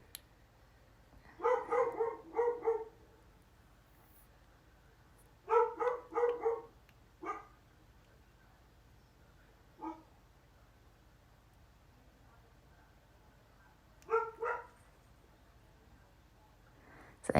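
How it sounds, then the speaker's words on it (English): A dog barks indoors in the background in clustered bursts of three or four quick, fairly faint barks, separated by quiet stretches and a few single woofs. "Sorry, that's my dog. You can probably hear in the background."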